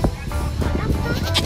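Goats bleat at a petting farm, several short calls close by amid steady background activity and some talk.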